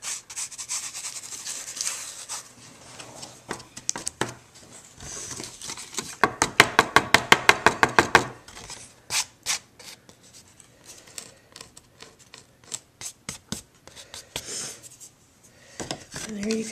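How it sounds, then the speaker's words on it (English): Paper being rubbed during card making, soft scratchy strokes with a quick burst of rhythmic scrubbing in the middle and quieter rubbing around it. "Rub it in a little bit."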